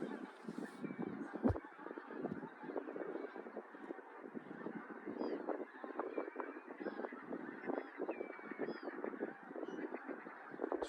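A large flock of geese along a UK river honks continuously, a dense overlapping chatter of calls at moderate distance that carries on throughout without a break.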